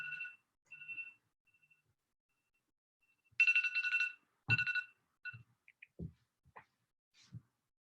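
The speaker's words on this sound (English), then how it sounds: "Hold on, my alarm's going off on my phone." A phone alarm sounds with a few short electronic tone bursts, then a louder burst of ringing, and sparse faint taps and bumps follow in an otherwise quiet room.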